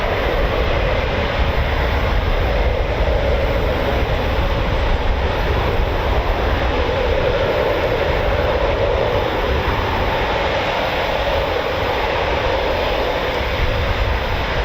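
A Eurofighter Typhoon jet at RAF Coningsby gives a continuous, loud, broadband engine roar that holds steady throughout, with no voices.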